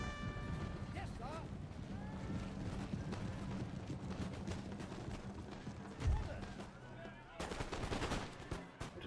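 Musket volleys from line infantry on a Total War: Empire battlefield, many close and distant cracks scattered over a continuous din of battle, with a heavier burst near the end and voices mixed in.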